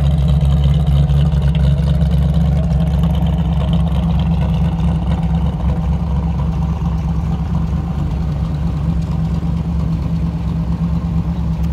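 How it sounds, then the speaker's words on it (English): A 1957 Chevrolet Corvette roadster's 355 stroked small-block V8, paired with a four-speed manual, runs at a steady, rumbling idle up close for several seconds, without anyone speaking. "355 stroker under the hood? Yes. Pretty healthy, huh? It runs really strong."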